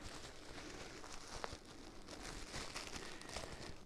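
Bubble wrap being handled and crinkled while packing a watch case, a steady close rustling texture with small crackles and one brief sharper pop, no talking.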